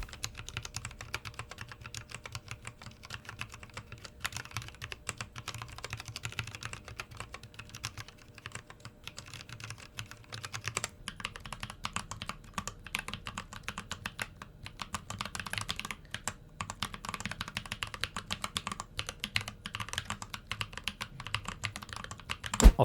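Typing on a mechanical keyboard with thick blank PBT keycaps and stable, rattle-free stems: a continuous, fairly quiet run of close, muted keystrokes with no talking.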